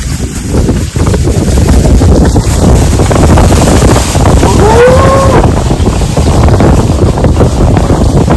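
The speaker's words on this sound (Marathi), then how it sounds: "वारा का वारा." Strong wind buffets the microphone in a loud, continuous roar while climbing the Girnar hill steps in Gujarat. A short tonal call or voice is briefly heard partway through.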